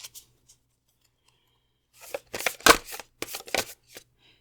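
An oracle card deck, the Lantern Oracle, being shuffled by hand: a few soft riffling bursts in quick succession, close and fairly quiet, after near silence.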